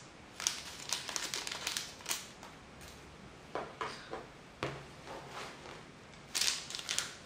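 A package of creature-themed gummy candies being opened, with close, intermittent crinkling and rustling of the plastic wrapper in short bursts, without speech.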